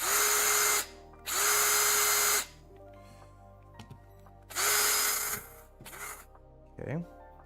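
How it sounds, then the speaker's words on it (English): A power drill reams out a 3D printed part for an RC truck, running in four bursts of whirring, two long and two short, with quiet handling noises and brief clicks between them. "I will slap the little connecting piece into the drill, and we'll see if that smooths it out"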